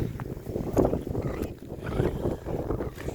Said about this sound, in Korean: 바람 많이 붑니다 봄도 아닌데